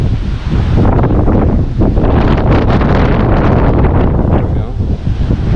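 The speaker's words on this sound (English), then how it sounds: "Give me big wind." Strong hurricane wind from Hurricane Ian roars loud and steady against the microphone, a constant heavy buffeting rush with no letup throughout.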